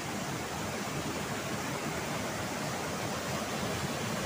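Steady broadband rush of river water flowing near a waterfall on the Bumi River at low water, a constant even roar at moderate distance with no voices.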